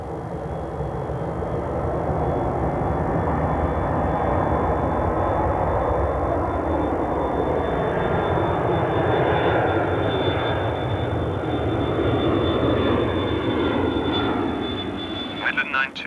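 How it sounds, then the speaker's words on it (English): A loud, sustained roar of jet engines swells and holds as an airliner accelerates down the runway, with faint radio chatter beneath. "you are clear for takeoff."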